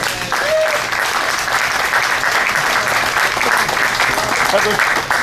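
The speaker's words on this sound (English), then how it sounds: "Give Heather a big round of applause." A stage audience claps loudly and steadily for Heather, a volunteer at a comedy show, with dense, sustained applause filling the whole stretch and a few voices mixed in.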